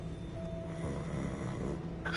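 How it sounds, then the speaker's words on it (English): Someone snores in a Hogwarts video game: a faint, low, rasping breath that drags on steadily through the short moment, quiet and slightly distant, with no talking. "I can hear someone snoring."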